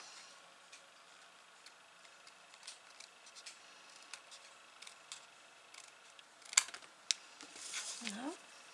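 Scissors cut around an outline in cardstock, giving a series of small, faint snips at irregular intervals, with a louder rustle near the end.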